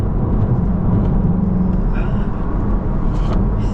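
A Mk8 Volkswagen Golf GTI with handling upgrades drives along, giving a steady broad engine and road rumble heard from inside the car, loud and continuous with a faint voice briefly under it.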